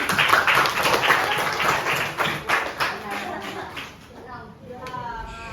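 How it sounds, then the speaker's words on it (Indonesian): Classroom applause during a religious studies lesson: a quick run of hand claps under a voice, fading as talk continues. "Tepuk tangan."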